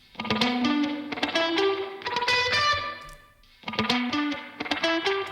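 An electric guitar runs through a spring reverb fed by a narrowing prefilter: two repeated plucked melodic phrases with a tighter, thinner reverb wash trailing each note, and no voices.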